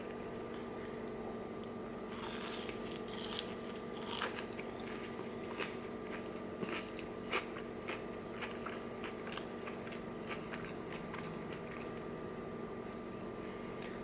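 Curly fries from a spicy chicken nacho munchie meal being eaten close up, with soft crunchy bites and moist chewing spread across the stretch over a constant background hum.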